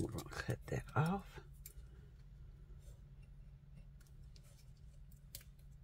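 Scissors snipping paper for a weekly planner: a few quick crisp cuts up close at the start, then quiet rustling and faint clicks while a person speaks softly.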